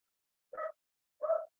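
A dog, Lace, gives two short separate barks, clear and fairly close, with silence around them.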